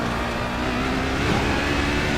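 Vintage Lotus race car in Lotus livery, engine revving at Le Mans, a steady loud droning roar that holds throughout with a slight swell near the middle.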